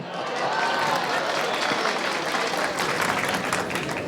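Loud, sustained applause from a large audience, dense clapping filling the whole stretch with crowd noise mixed in.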